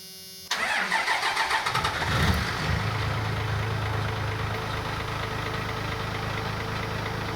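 An oily 2nd Gen Cummins diesel truck engine cranks briefly, catches, and settles into a loud, low, steady idle that rumbles on close by with no talking.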